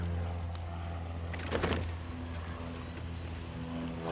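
Permobil M3 power wheelchair with anterior tilt driving onto dry, burnt grass, a steady low motor hum with a brief rustling, crunchy swell near the middle, no voices.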